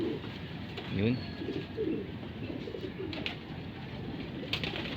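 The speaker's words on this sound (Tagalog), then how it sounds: "yan yung mga ibon natin, oh" Pigeons in a loft coo softly in repeated low, rolling calls close by, with a person briefly talking over them.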